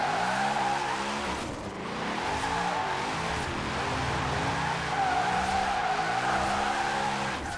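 Drift cars from a Formula Drift pack in the racing game Forza Horizon 4, a loud revving engine bouncing up and down against continuous screeching tire skids, steady and close.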